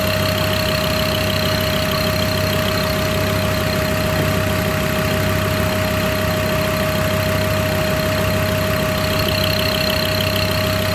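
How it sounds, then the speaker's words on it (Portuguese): A car engine with ticking fuel injectors idles up close with a steady low rumble and a fast, continuous ticking clatter layered on top. "Tá vendo esse barulhinho? Tique, tique, tique, tique, tique aí? É os bicos."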